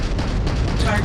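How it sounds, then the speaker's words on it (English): Dense gunfire and booming blasts from combat in the space game Starfield, a continuous loud barrage with no pauses, over roughly a second. "Taking fire."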